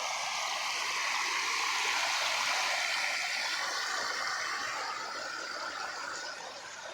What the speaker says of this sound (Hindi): ये खजूरों को पानी जा रहा है।